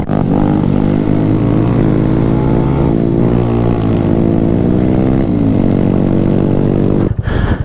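A small motorbike engine fitted with a Volkswagen beach buggy spark arrestor exhaust drones loud and close, its pitch rising and falling as it rides. It cuts off abruptly near the end.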